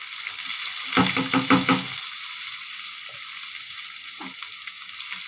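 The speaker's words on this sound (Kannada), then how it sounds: "ಈರುಳ್ಳಿ ಚೆನ್ನಾಗಿ ಬ್ರೌನ್ ಕಲರ್ ಬರೋವರೆಗೂ ಫ್ರೈ ಮಾಡ್ಕೊಳ್ಳೋಣ" Onions frying in oil in a pan for capsicum palya, tempered with chilli seeds and curry leaves, a steady sizzle throughout with a burst of stirring around the second second and a few later scrapes.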